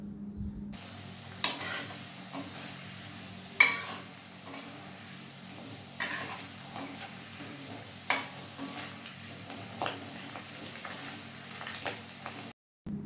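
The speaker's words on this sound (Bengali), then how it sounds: "আলুটা দিয়ে ভালোভাবে ভেজে নেবো" Long-cut potatoes fry in a cumin and dried chilli tempering, a soft steady sizzle broken by sharp clinks and scrapes of a spatula against the pan, close and fairly quiet with no talk.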